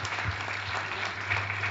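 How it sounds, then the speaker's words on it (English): An audience applauds after a keynote talk, a dense, steady wash of clapping from a crowd. "Another round of applause for Emeka."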